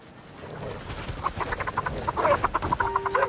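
Birds being chased and caught in the Alaska survival game The Red Lantern, with clucking, fowl-like calls and scattered squawks that build in a busy burst over a low background.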